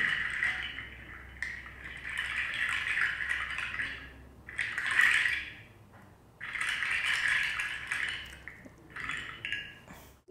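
Water sounds edited into a demonstration of sound editing: bursts of splashing and trickling with a rattling, dishes-like clatter, coming in several separate surges of moderate loudness with short gaps between them.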